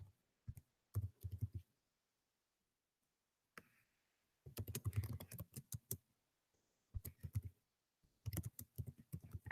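Quiet bursts of computer keyboard typing, quick clusters of soft clicks separated by short silent pauses, close and faint with no talking.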